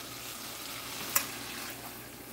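Sirloin steak sears in a pan of garlic jerk butter, a soft steady sizzle with one sharp clink near the middle and no speech.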